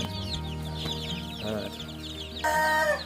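Young domestic chicks about two weeks old chirp and cluck continuously in a nursery cage during the rainy season, a dense overlapping chorus that swells louder near the end.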